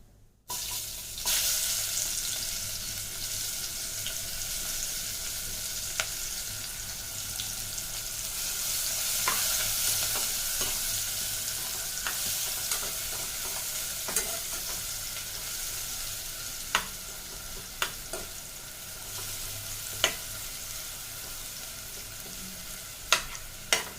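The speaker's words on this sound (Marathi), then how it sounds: "मीडियम फ्लेमवर आपण कांदा फ्राय करून घेऊया।" Onion frying in oil over a medium flame, with a steady loud sizzle and hiss running throughout and occasional sharp clicks and scrapes of stirring. No one speaks.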